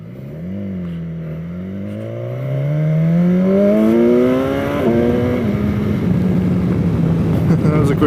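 A 2016 BMW S1000XR motorcycle accelerating hard on the road, its engine note climbing in pitch through a rising roar, dropping briefly at a gear change, then pulling on loud and close under steady wind noise.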